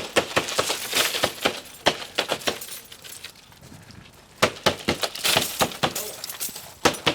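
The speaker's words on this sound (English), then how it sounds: "This will be first time for breaking glass." A hammer strikes a large pane of tempered glass, sharp cracking and shattering crashes repeating in irregular bursts with tinkling fragments, loud and close, pausing briefly midway before more breaking.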